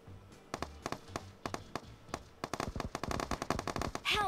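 Rapid bursts of automatic gunfire from a video game air duel, with clusters of sharp shots at first and then a dense, fast rattle of fire near the end, loud and close.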